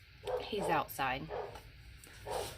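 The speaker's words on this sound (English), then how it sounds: "I'm sorry if you can hear my dog in the background." A dog barks and whimpers in the background in short bursts, partly under a person speaking nearby.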